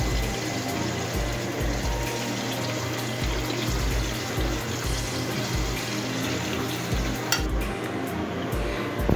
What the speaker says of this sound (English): I like frying the bread